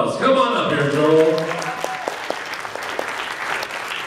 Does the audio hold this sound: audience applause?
yes